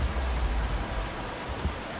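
Rain in the racing video game F1 2012 at Valencia, a steady broadband hiss of falling water with no talk over it.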